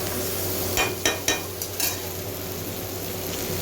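Spices for matar ghugni sautéing in hot oil in a pan, a steady close sizzle broken by a few sharp scrapes and clinks of a spatula stirring, with no talk.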